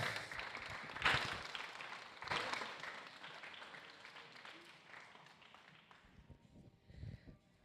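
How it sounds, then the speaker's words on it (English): Applause for a second-place finisher at a racing event, moderately loud clapping that rises in bursts and fades out gradually, with some background noise. "A round of applause please to Kareem Zahor."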